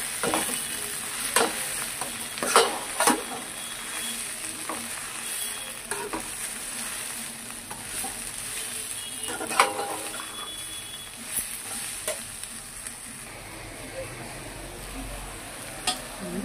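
Gongura pickle ingredients fry in oil, a steady hiss broken by recurring stirring scrapes and spoon knocks against the pan, close and moderately loud throughout.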